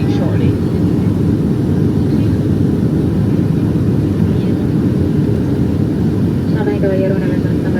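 Cabin of a Delta Boeing 757-232 descending toward Mexico City after a flight from New York, a loud constant engine and airflow roar that fills the whole clip, with a faint announcement voice underneath.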